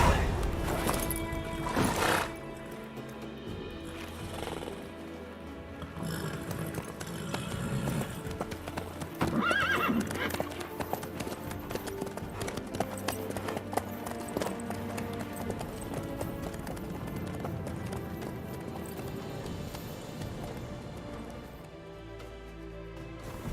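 Horse hooves clip-clop steadily at a gallop in The Witcher 3 game, with a brief whinny, under continuous game music and ambient sound, with voices talking over it.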